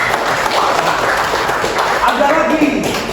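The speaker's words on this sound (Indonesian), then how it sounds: "Tepuk tangan kalian." A class of students claps together in a dense, continuous patter that fills the room, loud and close, with voices mixed in beneath it.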